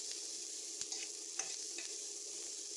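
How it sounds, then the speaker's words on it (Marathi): Onion sautéing in a pan with chillies until browned, a soft, even sizzle with occasional light spoon taps and stirring scrapes, close but quiet, no talking. "कांदा भाजून घ्यायचा आहे. सगळं लाल होईपर्यंत परतून घ्यायचं आहे."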